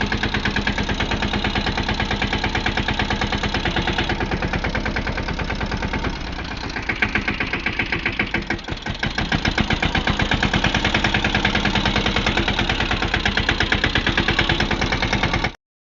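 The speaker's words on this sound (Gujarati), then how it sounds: "હાલો આપણે ટ્રેક્ટર હલવીને પાછું બીજું ભરી" A Mahindra Yuvraj 215 tractor engine runs steadily throughout, a loud, close, rhythmic chugging idle with a brief dip in the middle before resuming at full strength.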